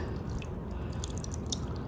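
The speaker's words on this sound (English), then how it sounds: "So I'm just going to start pouring the buttermilk" Buttermilk pours over raw pork chops in a kitchen, a steady liquid splash with soft dripping and squishing, close and moderately loud, with no speech.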